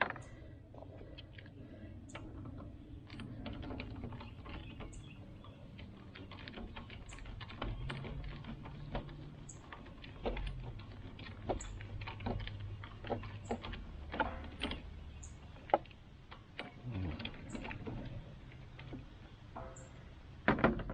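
A ratchet unscrews long starter bolts on a tractor mower, making quiet, steady ticking clicks that repeat through a long stretch, with occasional louder metallic knocks and a low background hum.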